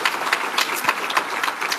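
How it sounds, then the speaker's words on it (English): An audience applauds an assemblywoman at a wellness centre inauguration, a dense, even patter of many hands clapping at moderate distance with no talk. "Give her another round of applause."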